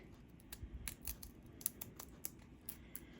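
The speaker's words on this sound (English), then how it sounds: "I've just been using some regular scissors just to cut" Quiet, irregular snips and crisp cuts from ordinary scissors cutting asphalt shingle for a dollhouse roof, close by with soft background noise between strokes.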